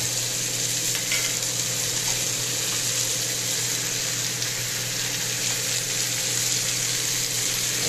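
Crushed tomatoes sizzling and frying in a pan while being stirred, a steady, close hiss that runs unbroken throughout with faint scraping.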